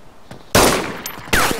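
Two sharp, loud gunshots in the video game DayZ, the first followed by a lingering ringing tail, the second cutting in about a second later, with no talk over them.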